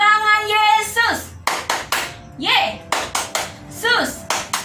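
Children at a Sunday school clap together in rhythmic bursts during a clapping song, crisp close hand claps in short patterned groups alternating with sung or chanted voices.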